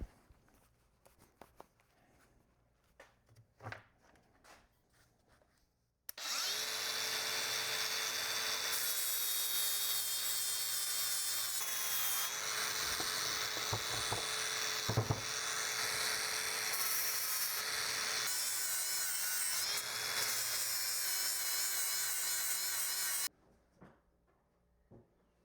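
A die grinder works on a bent Toyota Tacoma control arm, a loud high-pitched whine and grinding that starts abruptly, runs steadily about seventeen seconds with pitch shifts as it bites the metal, then cuts off to quiet handling noises.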